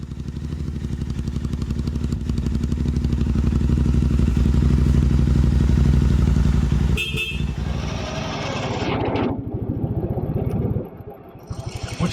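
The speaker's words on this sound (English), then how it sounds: "I think I'm going to go ride that motorcycle next" A classic BSA Victor Special 441 single-cylinder motorcycle runs loud and close, its steady engine drone holding then shifting as it rides off and fades, with a brief rev change partway through.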